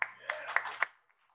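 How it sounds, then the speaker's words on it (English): A small church audience gives the band a brief burst of clapping, a few separate claps that end abruptly into near silence. "And to give an applause to our band as well."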